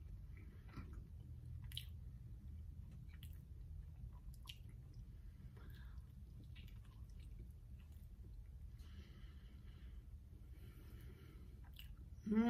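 Someone chews a bite of cauliflower-crust pizza topped with nutritional yeast, up close and quiet, with soft wet squishes and small crunches repeating steadily for several seconds, no talking.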